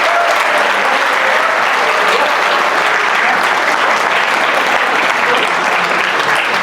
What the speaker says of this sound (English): give a great round of applause for all the speakers and for yourself also